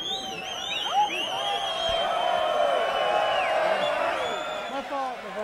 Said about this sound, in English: And the crowd definitely has woken up.